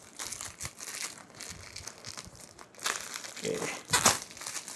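A DJI action camera's plastic wrap is torn and crumpled, with steady close crinkling and a sharp rip near the end; a voice says one brief word.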